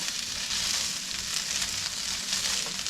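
Onion and potatoes sizzle steadily in a frying pan on medium-high heat while being stirred, a continuous close hiss with no talking.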